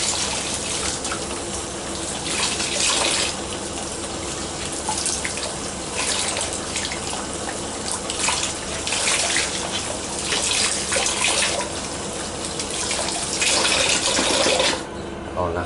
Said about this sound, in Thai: ล้างจนหมดฟองนะครับ